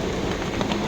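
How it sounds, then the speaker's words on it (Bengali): Rain falling steadily at a market, a dense even hiss of drops on surfaces filling the short moment without pause. "বৃষ্টি পড়ছে দেখো।"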